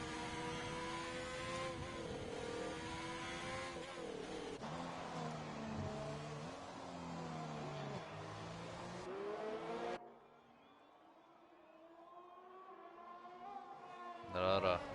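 A Formula-style race car engine in a PlayStation 4 racing game, revving high on a flying lap toward the final corner of the Dutch circuit, loud and sustained with shifting pitch, then cutting away to a quieter passage before swelling again.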